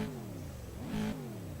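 A car engine revs in an Assetto Corsa racing game at full engine volume, a steady mid-pitched drone that briefly climbs in pitch as the throttle opens, then settles again.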